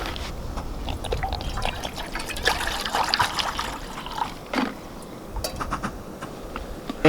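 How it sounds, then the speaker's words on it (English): Water at a rolling boil in a pot on a budget backpacking stove outdoors, a steady bubbling and trickling wash with brief clinks, close and fairly quiet, continuous throughout. "I got a nice rolling boil"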